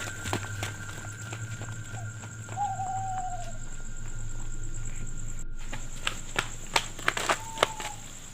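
Owl hooting at night in a Sundanese comedy short, two faint drawn-out hoots amid a steady hum and scattered footstep-like knocks, with no talking.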